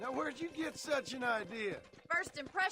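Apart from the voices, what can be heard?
No everyday noise stands out behind the speech.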